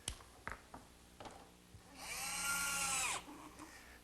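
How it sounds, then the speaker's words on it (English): Electric jigsaw cutting a slot in wood: a few short knocks and taps, then a loud steady buzzing cut for about a second that winds down, followed by lighter handling noises. "my electric jigsaw sure makes quick work of finishing up that slot."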